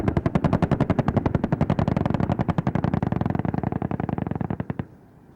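20mm guns on helicopters strafe a ground area at the Vayu Shakti 2019 Indian Air Force firepower demonstration, a loud continuous rapid-fire burst of sharp, regular shots that stops abruptly near the end.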